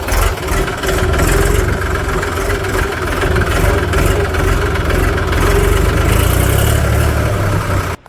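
A tractor engine runs steadily while the tractor reverses, a loud, close, even rumble that holds unbroken for about eight seconds before stopping abruptly.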